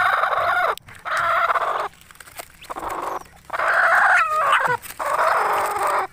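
Asil chickens, a hen and a rooster, call in several loud close bursts of clucking and squawking separated by short pauses, with one wavering crow-like cry in the middle.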